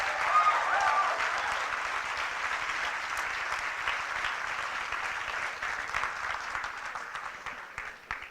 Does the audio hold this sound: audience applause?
yes